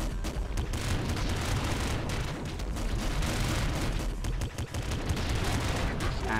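Plasma Bounce weapon fire from the video game Nuclear Throne comes as dense, continuous bursts of crackling, explosive blasts layered together, loud and unbroken across the whole stretch.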